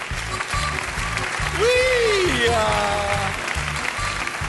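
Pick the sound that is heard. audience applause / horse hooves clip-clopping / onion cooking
audience applause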